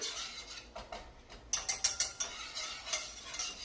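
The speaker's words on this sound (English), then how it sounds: "Once it starts to melt down, you can switch to a whisk." A whisk clatters against a pan while mixing a flour and butter roux for mac and cheese, quiet scraping at first, then a run of sharp, rhythmic metallic ticks from close by.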